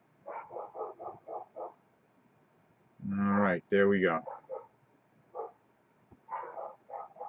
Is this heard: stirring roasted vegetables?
no